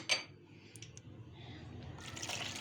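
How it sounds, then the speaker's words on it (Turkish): Water poured into a sauce mixture of tomato paste, oil, salt and chili flakes, a soft close trickle with a brief splash at the start and a quiet liquid stream building toward the end. "bir çay bardağına yakın su ekliyorum"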